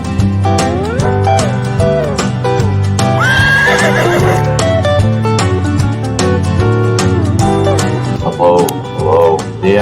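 A horse neighs loudly with a long, shaky whinny, accompanied by clip-clop hoofbeats and rhythmic music-like tones close up.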